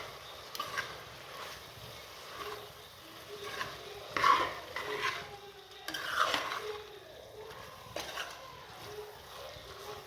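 Ginger garlic paste being stirred into biryani masala in a pan, soft scraping and gentle sizzling strokes rising in a few faint bursts against a quiet kitchen background.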